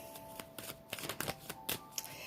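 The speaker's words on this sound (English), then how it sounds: "Shuffle these a bit" Tarot cards being shuffled by hand, a quick series of papery riffles and slaps in irregular bursts, close and clear with no talking.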